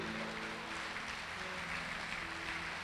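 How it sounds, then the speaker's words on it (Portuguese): Church congregation clapping, a dense, continuous wash of applause held steady throughout at moderate distance. "Você pode dar glória e uma salva de palmas a Deus por isso?"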